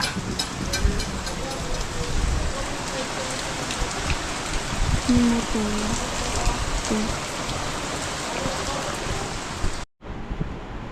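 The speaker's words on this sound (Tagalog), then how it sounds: "Ulan." Steady, dense rain pours down, a continuous hiss with scattered drops, fairly loud and close, with no talk, cutting off briefly near the end.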